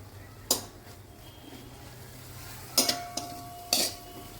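Chilli and soy sauces are stirred in a pan for noodles, giving three sharp metallic spoon clinks against the pan over a low, steady sizzle and background hum.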